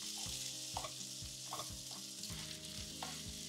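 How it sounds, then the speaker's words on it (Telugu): Onions fry with ginger garlic paste in a pan, giving a steady close sizzle with repeated scraping stirs, no voices. "అనియన్స్ కొద్దిగా ఇలా అయిన తర్వాత సాఫ్టన్ అండ్ లైట్ బ్రౌన్ అయిన తర్వాత అల్లం వెల్లుల్లి పేస్ట్ వేసిద్దాం."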